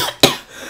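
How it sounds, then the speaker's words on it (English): A single short, sharp cough from one person, close and loud, followed by quiet. "I'm sorry. I'm coughing."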